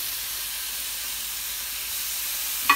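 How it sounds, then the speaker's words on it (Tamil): Onions and tomatoes sauté in a pan with a soft, continuous hiss and sizzle, fairly quiet and even throughout, followed by a brief small clink near the end. "இப்போ 4 இடத்துலையும் பார்த்தீங்கன்னா வந்து வெங்காயம் தக்காளி நல்லா வதங்கிட்டு இருக்கு."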